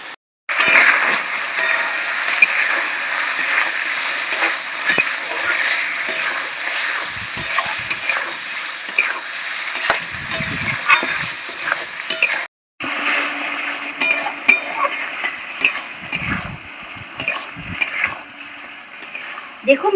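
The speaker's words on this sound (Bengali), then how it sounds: "মশলাটা খুব ভালো করে কষিয়ে নিয়েছি" Spice paste (masala) is stir-fried in a pan, giving a loud, continuous sizzle broken by scraping and stirring strokes, briefly cutting out midway before resuming.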